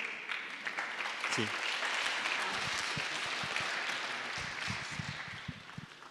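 Applause from a church congregation welcoming a pastor at a Sunday service, a steady broad wash of clapping that fills the room, with a brief voice speaking over it.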